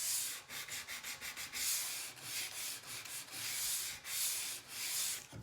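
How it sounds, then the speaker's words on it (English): Sandpaper rubs back and forth along a sharp 90-degree edge of a lip on a part, making rhythmic, close, hissing scrapes in quick strokes with brief pauses between passes, no voices. "I want to take my sandpaper and I want to sand off that sharp 90-degree edge here on this part of the lip"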